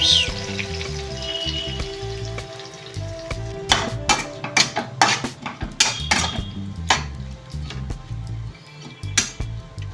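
Potatoes go into hot oil with curry leaves in a home kitchen pan, bringing a continuous frying sizzle broken by sharp clinks and scrapes of a utensil stirring against the metal, close and fairly loud.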